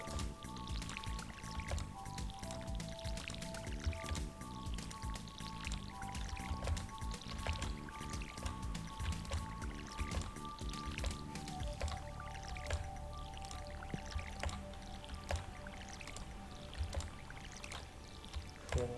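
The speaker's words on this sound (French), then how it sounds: "On arrose bien." Crops being watered with a watering can in the Stardew Valley video game, soft repeated splashing and dripping bursts over a steady layer of game music, with no talk.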